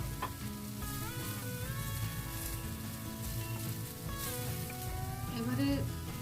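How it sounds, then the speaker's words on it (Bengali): Sweet potato pieces cooking in a pan, a steady light sizzle with faint crackles running throughout, close to the microphone with no talking. "হালকা রোস্ট করতে হবে।"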